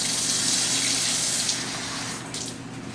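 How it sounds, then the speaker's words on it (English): Water poured steadily into calzone dough in a mixing bowl, a continuous close splashing stream that thins slightly toward the end, with no talking. "So I'm going to add a little bit more water to it."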